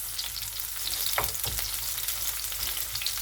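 Onions caramelizing in a hot pan give a steady, close sizzle and crackle, with a couple of brief stirring scrapes partway through and no voices.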